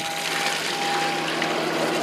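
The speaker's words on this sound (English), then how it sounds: "I got the water on." Water runs steadily through a hose while flushing an outboard boat engine, a close, constant rushing gush with a faint hum underneath and no pauses over two seconds.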